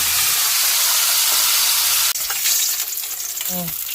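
Food frying in a pan, a loud continuous sizzle and hiss up close, with a short clatter of stirring and a brief voice near the end.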